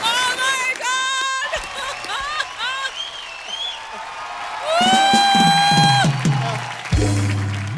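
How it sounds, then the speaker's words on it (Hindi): A crowd applauds and cheers, with whoops and shouting voices rising over the clapping, loud and lively throughout. "जोरदार तालियां"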